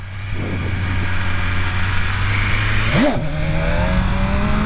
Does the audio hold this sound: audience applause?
no